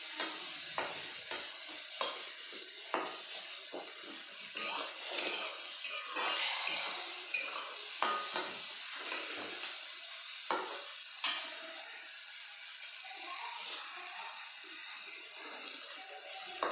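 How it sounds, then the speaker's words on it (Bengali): Food stir-fried in a pan for a lunchtime meal, sizzling steadily and loudly with repeated scraping and clinking of a utensil against the pan throughout. "এটা ভাজা হয়ে গেছে, এবার ভাত দিয়ে দেবো।"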